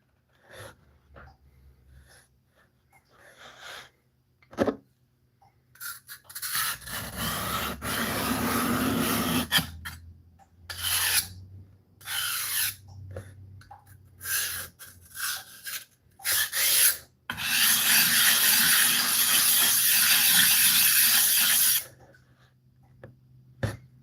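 A blade is rubbed back and forth across a 1000 grit sharpening stone, producing rasping scrapes in irregular bursts with longer sustained strokes, close and fairly loud, separated by brief pauses.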